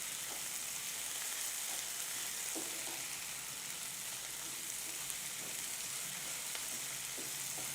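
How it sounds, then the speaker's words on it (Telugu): Boiled cauliflower fries in a pan with a dense, even sizzle and faint stirring scrapes, a continuous close crackle without speech. "నీట్గా ఇలా ఫ్రై చేసుకోవాలి."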